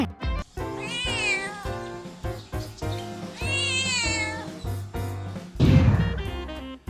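Cat meowing in the Sakura School Simulator video game, several drawn-out, wavering meows over background music, loud and close, ending in a noisier burst.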